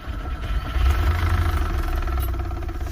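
VAZ 2107 with the engine running and a knock inside the gearbox, a steady low idling rumble with faint rhythmic tapping underneath, close and continuous.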